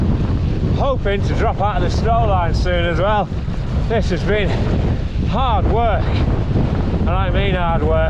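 Strong wind roars and buffets the microphone throughout an eBike ride descending out of snowy, cloudy high ground, a steady loud rush with someone talking over it breathlessly.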